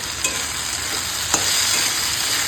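Steady sizzling of tender water spinach frying in a pan with salt, releasing water, a continuous hiss with a couple of soft stirring scrapes, close and moderately loud.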